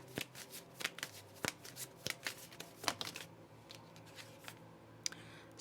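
Tarot cards being shuffled, a quick run of crisp, light card riffles and flicks, close and fairly quiet, thinning out toward the end.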